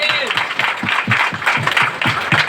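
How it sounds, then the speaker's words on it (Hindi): A church congregation claps in a steady, quick rhythm during a Sunday service, the claps evenly spaced and fairly loud, with a voice faintly underneath. "तारीफ करो तालियों के साथ में"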